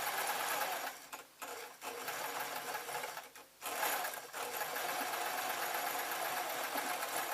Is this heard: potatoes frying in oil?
no